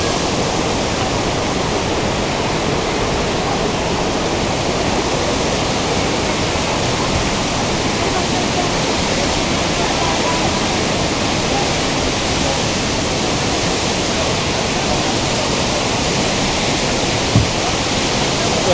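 The Iruvanjippuzha river rushing past during an international kayaking festival in Kodenchery, Kozhikode, a dense, unbroken roar of flowing water filling the whole stretch, loud and constant with no clear voices.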